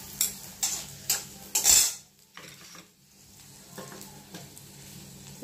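Whole spices splutter and crackle in hot oil during tempering for a vegetarian potato bharta, with several sharp close stirring knocks and scrapes first, then quieter sizzling with faint clatter.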